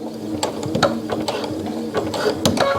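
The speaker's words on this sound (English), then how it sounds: "I'm going to back stitch a little" A sewing machine back stitches fabric for a face mask in short, choppy mechanical bursts, near and fairly loud, with ratcheting clicks between runs.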